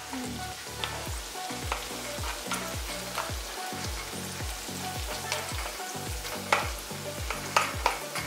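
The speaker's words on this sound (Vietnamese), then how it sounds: "Bây giờ mình sẽ cho hết số tôm vào nha." Shrimp frying in a pan with bacon and butter, a steady loud sizzle with occasional stirring scrapes and pops, close up and without talk.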